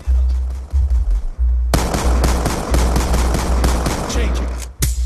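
S12 12-gauge shotgun firing in Black Ops 2, a burst of rapid loud booming shots in quick succession after a short lull, close and punchy with a sharp final blast.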